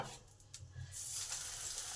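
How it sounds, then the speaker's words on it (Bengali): Eggplant slices fry in a little oil in a pan for a dal-and-curd eggplant dish, a quiet hiss that swells into a steady bright sizzle after a brief stir at the start. "বাকি বেগুনগুলোকে ভেজে নেব"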